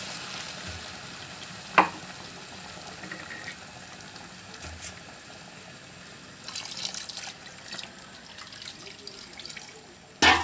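Water poured into rice for pulao, heard as a soft continuous splashing and trickling over several seconds, close but low in level, with a couple of brief clinks of a vessel.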